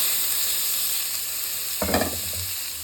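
Tomatoes frying in oil in a pan for mushroom biryani, a steady soft sizzle with a brief louder burst of stirring and spattering near the end, no voices.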